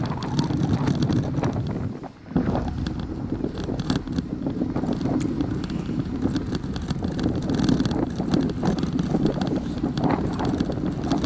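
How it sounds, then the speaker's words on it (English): Wind rushing over the microphone during a group bicycle ride in South Texas, a loud continuous buffeting roar with brief dips and a short lull, no talking. "I want the wind to blow on me."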